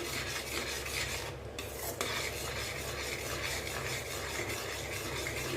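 A spoon stirs and scrapes continuously through a thick Mysore pak mixture in a pan while ghee and oil are added bit by bit, with a steady rasping stir over a soft, constant sizzle.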